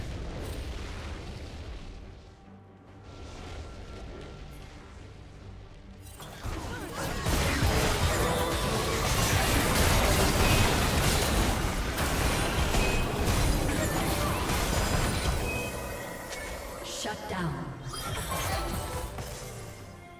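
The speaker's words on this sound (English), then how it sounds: "Blue team's turret has been destroyed" A turret collapsing in League of Legends, with a dense rumbling crash and booming debris that swells in after a quieter start, then fades out gradually.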